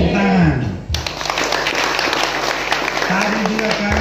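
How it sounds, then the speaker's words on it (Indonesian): Audience applause at an outdoor ecumenical revival service and social-aid gathering, a dense steady patter of many hands clapping that follows a spoken voice and continues under some talk throughout. "Tepuk tangan."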